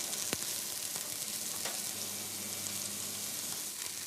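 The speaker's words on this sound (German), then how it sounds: "Rühren, genau." Food frying in a coated nonstick pan in a restaurant kitchen, stirred as it cooks: a steady close sizzle with occasional soft scrapes and knocks, continuous throughout with no speech.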